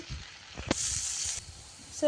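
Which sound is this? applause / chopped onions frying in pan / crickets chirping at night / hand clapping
chopped onions frying in pan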